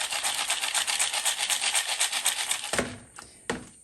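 Coarse and fine terrarium substrate pieces rattle and rasp in a container being shaken in a fast rhythmic stream up close, then settle into a couple of final clatters.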